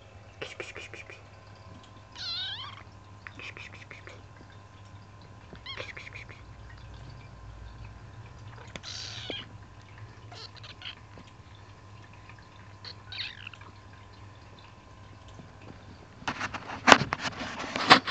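Soft, high kitten meows come in short bursts over a quiet room hum, with a louder rustle near the end.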